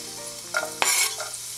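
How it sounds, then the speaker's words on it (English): Garlic hitting hot oil in a pan, a short sizzle with stirring scrapes, with a brief loud burst in the middle fading into a steady fry. "Now add the garlic."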